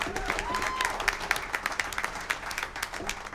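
An audience at a jazz concert claps steadily, a dense patter of applause that holds at a moderate level throughout.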